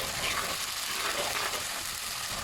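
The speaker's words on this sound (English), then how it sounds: "Now we are going to switch on the flame on medium and start frying this masala." Masala sizzles and crackles steadily in hot oil over a medium flame while cooking kadi badi, a continuous close frying hiss with no talk.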